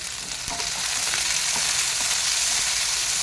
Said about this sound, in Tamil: கேப்சிகம் வந்து ஒரு 2 நிமிஷம் நல்லா வதக்கினா போதும்